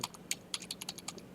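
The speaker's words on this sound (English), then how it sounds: "I have to type again" Brief, quiet run of typing on a computer keyboard, about a dozen crisp key clicks in an uneven rhythm, close by and with no speech.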